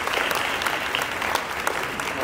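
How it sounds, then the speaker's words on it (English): Audience at a middle school honors ceremony gives a round of applause, a dense sustained clapping with a few sharper individual claps standing out. "they deserve an extra welcoming round of applause"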